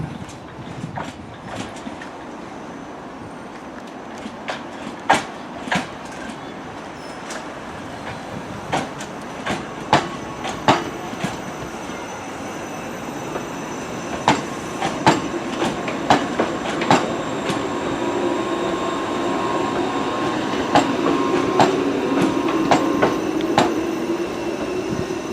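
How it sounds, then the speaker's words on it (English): A suburban train on the North Clyde line pulls into Westerton station, its rumble slowly building while sharp clicks and wheel squeals ring out close by. "So we're going to film this train coming in and then we're going to leave."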